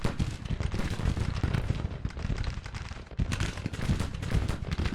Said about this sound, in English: Counter battery firing.